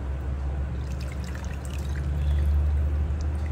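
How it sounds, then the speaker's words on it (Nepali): Two cups of water are poured into measured gram flour for curd curry, a close, steady pouring sound over a low hum, continuous for a few seconds without talk. "दुई कप जति हाल्छु पानी"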